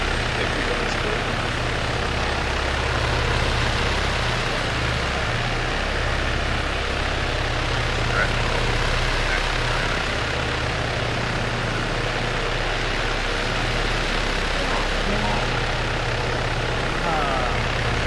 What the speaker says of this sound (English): That helicopter is massive